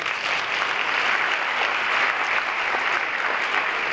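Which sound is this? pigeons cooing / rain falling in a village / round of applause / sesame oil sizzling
round of applause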